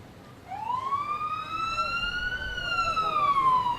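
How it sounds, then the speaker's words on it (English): An AHS EMS ambulance, a primary response unit rolling in a small-town parade, sounds its siren in one long rising-and-falling wail that grows steadily louder and nearer, over a low crowd murmur. "Up next, the AHS EMS Ambulance, a primary response unit"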